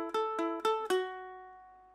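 Ukulele plays the first half of section three of the Loki theme, four quick plucked notes rising to a final note that rings out and fades, close and alone.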